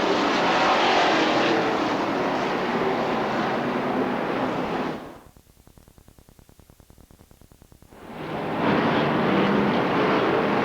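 The field of race cars in a bracket nationals feature roars past close by, engines loud and sustained, briefly fading to a rapid pulsing drone before the next cars sweep by at full volume.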